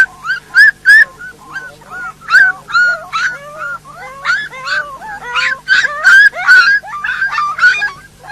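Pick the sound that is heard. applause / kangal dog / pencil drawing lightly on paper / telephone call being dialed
kangal dog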